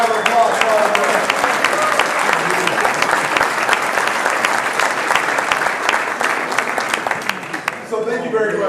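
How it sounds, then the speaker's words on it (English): Dense room-filling applause at a mayors' press conference, many hands clapping continuously and evenly, tapering off near the end as a voice begins speaking. "Give a round of applause for all the mayors."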